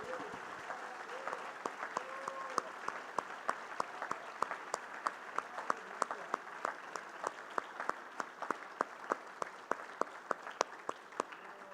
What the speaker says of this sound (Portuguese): Vamos aplaudir ao Senhor Jesus pela sua palavra.